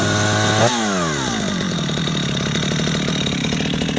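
A Husqvarna chainsaw engine that has just been pull-started sits at a high rev, then drops at once to a steady, rough idle that runs on, loud and close, with no talk.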